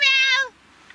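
A single clear, close meow from a cat, a short drawn-out tonal cry lasting under half a second, followed by quiet.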